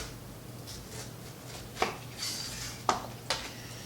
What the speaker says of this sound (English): I'm going to cut this hard core out of the middle